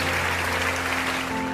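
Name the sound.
audience applause for a rapper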